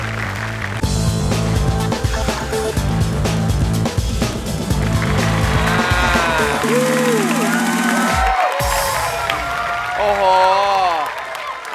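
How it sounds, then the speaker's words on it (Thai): An audience at the True Innovation Awards claps and cheers for an innovation finalist, the applause mixed with loud stage music and an amplified voice speaking. "ขอเสียงปรบมือด้วยนะครับ"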